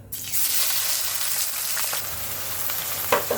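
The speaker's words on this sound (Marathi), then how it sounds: "आता मी तेलामध्ये कांदा टाकत आहे। तेल चांगलं तापलेलं आहे।" Finely chopped onion hits well-heated oil with a sudden loud sizzle that settles into a steady close frying hiss, with a brief utensil clink near the end.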